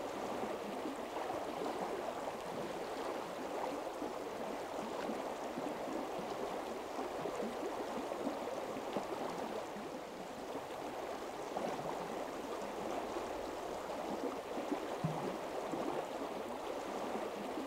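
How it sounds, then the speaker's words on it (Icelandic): Murmur of the Breiðdalsá river during a fly-fishing outing, a steady faint rushing and gurgling of flowing water that continues evenly throughout, with no voices. "niðurinn í ánni bókstaflega kallar á að hér sé sett í fisk"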